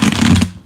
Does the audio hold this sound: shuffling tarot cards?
yes